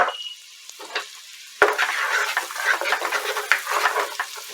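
Garlic hitting melted butter in a hot pan, a sudden sharp hiss that settles into steady crackling sizzle with small pops, close and loud, after a quieter low sizzle.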